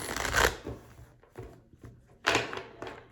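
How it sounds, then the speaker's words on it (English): Tarot cards are shuffled and drawn by hand, a few soft riffling and sliding bursts with quiet gaps between them, close and alone without talk. "let's draw one of my makeshift cards"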